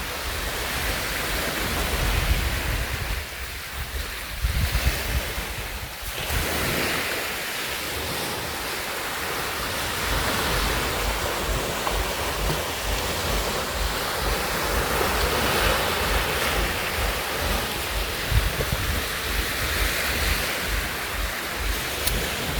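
Steady ocean surf washing onto a Philippine beach, a continuous broadband roar with gentle swells in loudness and a dip around the sixth second, wind-like hiss throughout and no voices.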